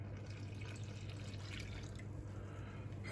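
Yeasty water is poured into a well in a mound of flour while making pizza dough, giving a close, steady trickle and splash with no talking.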